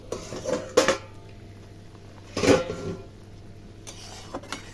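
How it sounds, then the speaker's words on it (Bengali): A metal lid comes off a cooking pot of simmering rohu fish curry with beans and potatoes, giving two brief clanks about a second apart, then a few faint taps against a quiet kitchen background. "এবার ঢাকনাটাকে খুলি।"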